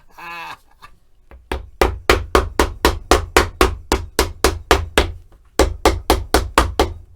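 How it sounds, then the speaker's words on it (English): Hammer striking thick leather during shoemaking, a loud close series of sharp regular blows, about a dozen in quick steady rhythm, a brief pause, then another run, with a short voice sound at the start. "More hammer time."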